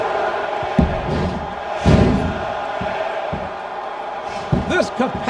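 A capacity crowd at a wrestling match roars and cheers steadily, with louder surges and thuds of ring action, while commentators talk over the noise.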